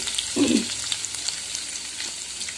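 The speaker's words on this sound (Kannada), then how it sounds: "ಜಸ್ಟ್ ಎಣ್ಣೆಯಲ್ಲಿ ಸ್ವಲ್ಪ ಚಟಪಟ ಸಿಡಿದ್ರೆ ಸಾಕು ಕರಿಬೇವನ್ನು ನಾನಿಲ್ಲಿ ಸೇರಿಸ್ತಾ ಇದ್ದೀನಿ" Curry leaves hit hot oil for tempering curd poha, giving one quick burst of spitting sizzle, then a quieter crackle that fades over a couple of seconds.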